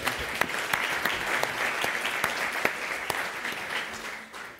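Steady, dense clapping from a convention audience welcoming a speaker at a marketing convention, continuous for a few seconds before fading slightly at the end.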